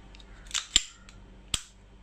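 Trigger of a VFC Sig M17 airsoft pistol pulled, giving three sharp dry clicks near the mic, the middle one loudest, spaced unevenly over two seconds with quiet in between.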